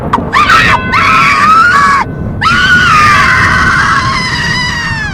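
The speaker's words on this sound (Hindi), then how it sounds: "सेक्रेटरी ऊपर जाती है, चिल्लाने लगती है, रोने लगती है।" A woman screams in high, piercing, wavering wails. The cries come in several bursts with short breaks between them, then one long, sustained scream. The scream is loud and close, over a low rumbling background.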